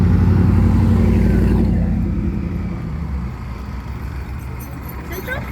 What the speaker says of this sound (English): Alright, we're just waiting for a tuk-tuk.